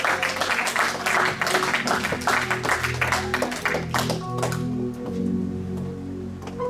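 Church congregation applauding and cheering for Jesus during a French-language sermon, dense clapping with music and voices underneath, fading after a few seconds.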